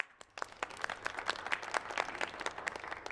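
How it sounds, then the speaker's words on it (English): Scattered audience clapping at a poetry open-mic event, a dozen or so quick, uneven claps rising in a brief burst, fairly close and moderately loud with no talking. "can I hear y'all clap?"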